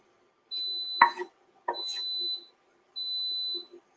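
An Instant Pot beeps three times when done, steady high tones each about a second long, mixed with a few clatters of kitchen activity.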